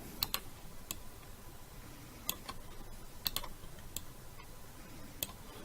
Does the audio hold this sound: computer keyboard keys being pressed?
yes